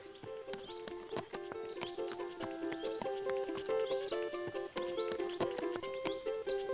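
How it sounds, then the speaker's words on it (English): Cartoon royal horse's hooves clip-clopping in a steady trotting rhythm over a bright, tuneful music bed, close and clear with no speech. "Here's Golden Hoof, your royal horse."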